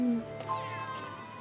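A sleepy cat disturbed from its nap lets out a drawn-out, wavering meow close by, faint and alone after a brief murmur of a voice at the start.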